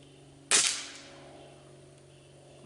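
A single sharp report from a Gamo Whisper pellet rifle fired at a target 26 yards away, a close, loud crack followed by a fading tail and then near quiet.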